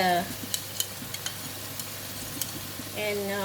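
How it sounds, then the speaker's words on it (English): Bitter gourd and pork belly stir-fry in black bean sauce in a hot pan, a steady loud sizzle with scattered clinks of the spatula against the wok and brief voice fragments at both ends. "Stir fry."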